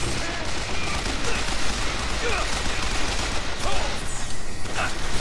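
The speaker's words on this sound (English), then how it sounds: "Damn it, that guy's just firing away at me." An enemy in BioShock Infinite fires without letup, a dense close rattle of shots filling the whole stretch, with faint voice sounds underneath.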